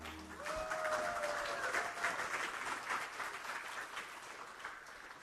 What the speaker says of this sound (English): Applause, House of Om.